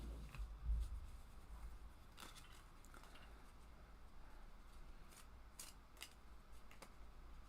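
Playing cards are shuffled by hand in a few quiet, papery bursts of riffling and crackling, close by, against faint room noise.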